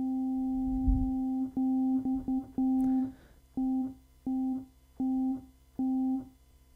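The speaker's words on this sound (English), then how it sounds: "So that's the sound of a piano string being played with an Ebow, which vibrates the string using ultrasound." A single piano string in an IRCAM prepared piano is sustained by an Ebow, giving a pure, steady tone in repeated held bursts with gaps between, quiet and close, plus a brief thump near the start.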